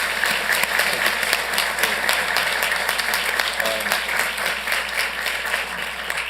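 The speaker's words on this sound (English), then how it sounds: "let's give them a round of applause" Steady, dense applause from an audience at a Santa Ana city council meeting fills the whole stretch as a continuous patter of many hands, fairly close and even in loudness, with a faint voice briefly underneath.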